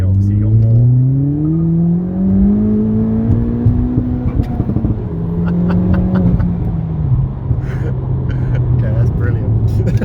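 A turbocharged TRS S280 Ford Fiesta engine revs hard and loud, pitch sweeping upward then settling, with turbo whoosh and people talking over it.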